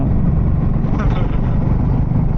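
A Suzuki DR-Z4 S dual-sport motorcycle roars steadily and loudly while riding at speed, its engine drone mixed with heavy rushing wind and a voice faintly beneath.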